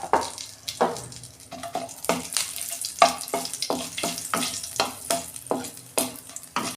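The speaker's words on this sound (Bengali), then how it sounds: "ওই কড়াতে আমি তেল দিচ্ছি। এই যে একটা ফোড়ন দিচ্ছি, একটা শুকনো লঙ্কা আর এই যে 5 ফোড়ন।" Dried red chilli and panch phoron tempering sizzle in oil in a wok for a vegetarian bitter gourd dish, with a soft hiss beneath a rhythmic series of close clattering knocks, about two per second.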